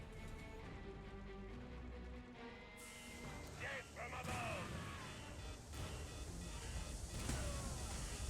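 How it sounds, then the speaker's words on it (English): Artillery fire in the strategy video game C&C Rivals, booming game effects mixed into a dense, continuous soundtrack of music and other battle noise. "Do you see the artillery miss because the thing had moved, only hit 1?"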